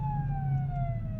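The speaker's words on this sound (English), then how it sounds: "With sirens blaring, the ambulance team sets off." Ambulance siren wailing steadily with a slowly falling tone, loud and continuous over low vehicle rumble as the emergency team drives off.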